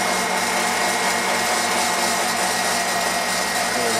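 A small IMC Magnetics 400 Hz vaneaxial aircraft fan motor whirs at full steady speed, producing a loud, airy roar with a faint high whine, uninterrupted throughout.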